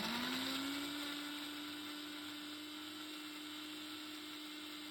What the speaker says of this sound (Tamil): இப்போது நம்ம வதக்கின வெங்காயம், பாயில் பண்ண தக்காளி, காஷ்மீரி மிளகாய் அதெல்லாம் மிக்சி ஜாரில் போட்டு கிரைண்ட் பண்ணிக்கலாம் பேஸ்ட்டாக